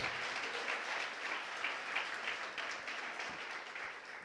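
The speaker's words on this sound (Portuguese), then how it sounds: "Você pode aplaudir o nome do Senhor?" A church congregation applauds together, a steady wash of many hands clapping at moderate distance that holds evenly for several seconds before cutting off.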